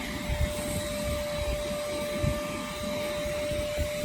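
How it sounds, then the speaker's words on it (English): A vacuum cleaner runs steadily with a constant whine and airy roar as it sucks up dry instant snow, with a few soft low thumps and rustles from the nozzle and no talking. "You can see it's fairly dry snow, so it shouldn't harm your vacuum."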